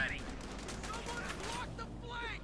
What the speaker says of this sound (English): Machine guns doing quite a good job, and one hell of a hit there, wiping out the rest of the Pioneers